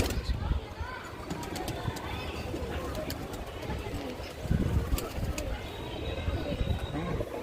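A caged male pigeon coos repeatedly in soft, throaty rolls close by, with other birds and faint background chatter around it.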